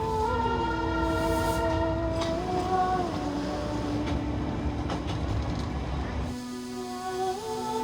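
Darjeeling Himalayan Railway toy train running on the New Jalpaiguri to Darjeeling route, loud and close, with sustained horn-like tonal wails over a steady rumbling roar and clatter, ending as the tones fade.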